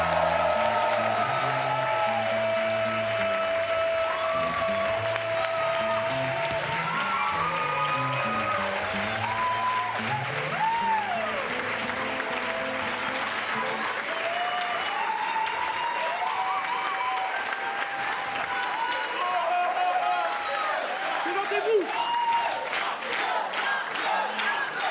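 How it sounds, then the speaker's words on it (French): Sustained audience applause with some cheering and whoops greets eight improv players entering at a sung improv festival show, a dense crowd roar beneath a held sung or musical tone. "Un maximum d'applaudissements!"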